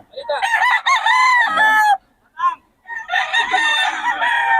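Roosters crow loudly and close by at a market in Bocaue, Philippines, one long crow followed by a brief squawk and then another drawn-out crow.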